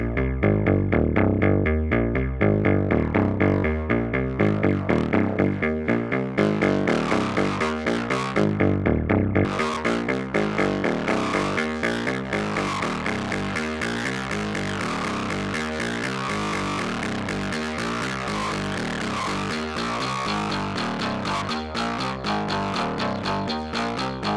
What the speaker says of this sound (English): here's a distortion filter on the low band